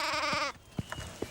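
A sheep gives one loud, wavering bleat up close. It breaks off into quiet, with a few soft thumps after.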